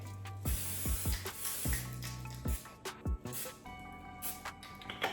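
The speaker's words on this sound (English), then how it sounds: "I'm gonna spray this now lightly with a little cooking spray." Short, faint hissing bursts of aerosol cooking spray into a baking dish, mixed with light clunks and clicks of the can and dish being handled nearby.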